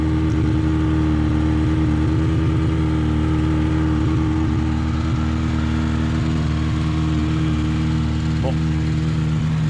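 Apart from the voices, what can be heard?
Honda CB 750 KZ motorcycle engine running after restart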